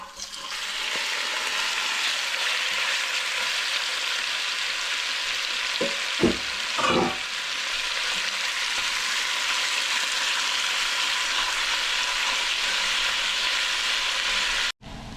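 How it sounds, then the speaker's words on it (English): Beef searing in hot oil in a pan makes a loud, steady sizzle that runs throughout, broken by a couple of brief clatters of the meat being moved around midway, with no voices. "when the pan is hot, just toss the beef in there. I just want to brown the beef a little bit, to sear the beef"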